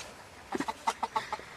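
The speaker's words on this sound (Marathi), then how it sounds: "हे बघा एक आली कोंबडी इथं" A chicken clucks close by: a quick string of about seven short, soft clucks, rhythmic and alone against quiet.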